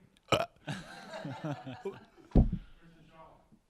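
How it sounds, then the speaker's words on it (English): Two short, loud burps produced on command by a performer at a live comedy show, separated by a stretch of throaty vocal noises and chuckling. "I can actually burp on command"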